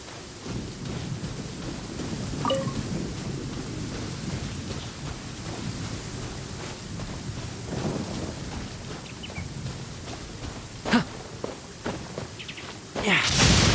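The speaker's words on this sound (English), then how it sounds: "Where'd this rain come from?" Steady rain patters in the Genshin Impact game world as thunder rumbles low, with a few sharper cracks and footstep-like sounds near the end.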